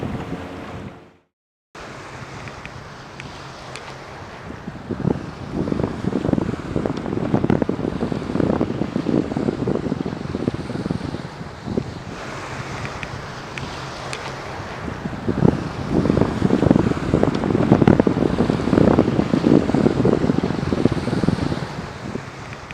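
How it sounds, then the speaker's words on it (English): Seaside waves off Terminal Island, California, heard from a sailboat at low tide: a windy, rushing wash with surging swells that build twice, with a brief dropout near the start. "see these waves coming?"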